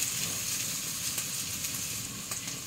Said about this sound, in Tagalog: O, igigisa na natin. Pero ang gagamitin natin ay ang olive oil.